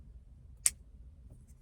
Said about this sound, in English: It even has a click.